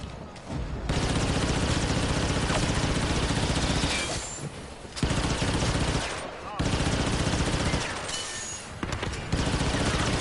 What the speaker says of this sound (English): You don't know where I'm shooting you from, do you, Tex?